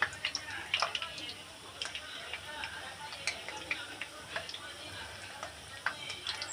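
Jalebi batter frying in hot oil for iftar, a steady busy crackle and sizzle with scattered ticking pops throughout, close and moderately loud, with no talk.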